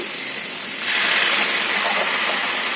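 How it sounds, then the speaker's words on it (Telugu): Tamarind pulp is poured into a cooking pot, a hissing, gushing wash of liquid that swells about a second in and then holds steady, close and fairly loud. "చింతపండు గుజ్జండి, మీకు ఎంత కావాలంత పోసుకోండి"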